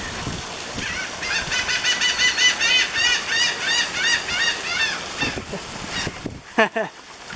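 Rapid, repeated high-pitched gull calls in a noisy outdoor scene, fairly close, with a person speaking near the end.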